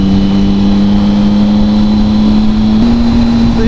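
Triumph Speed Triple 1050 motorcycle engine at a steady cruising drone while riding, loud and close with constant wind roar and an even low hum holding pitch, rising slightly near the end.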